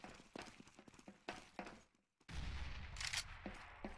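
Counter-Strike match gunfire, a quick patter of shots early on followed by a louder, denser burst of firing in the second half, all fairly quiet.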